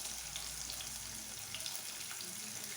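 Chopped medium-sized onions frying in a pan for idly upma give a steady, close hiss of sizzling oil that runs unbroken and evenly loud throughout.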